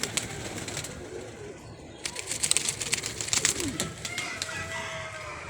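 Pet pigeons on a rooftop coo softly with low, rolling calls, joined by rustling, wing flutters and scattered clicks; faint talk sits in the background.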